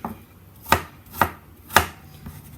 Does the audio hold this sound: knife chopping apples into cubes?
yes